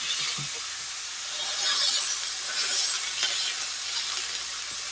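Fresh ground steak burgers sizzle on a grill, a steady, bright hiss and crackle that holds close and fairly loud throughout, swelling slightly in the middle.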